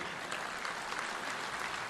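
A hall audience at an all-India conference in Varanasi gives a short burst of steady applause, with dense, even clapping that sounds a bit distant.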